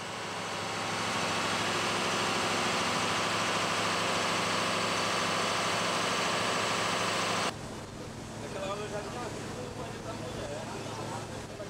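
A boat's engine drones as heard from the kitchen beside the engine room, a loud, constant low rumble and hum that cuts off abruptly partway, leaving quieter background with faint activity.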